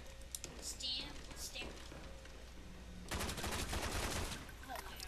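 Gunfire from the Call of Duty Der Riese zombies game comes as a rapid burst of shots in the second half, after softer scattered clicks.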